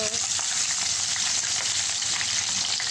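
Garlic sautés in a hot pan, a steady, close, continuous sizzle and crackle with no pauses.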